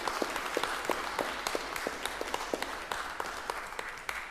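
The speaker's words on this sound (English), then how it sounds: "How about we give a round of applause?" A church congregation applauding during a Sunday worship service, with steady, moderately quiet clapping from a modest crowd and individual sharp claps standing out in a loose rhythm over several seconds.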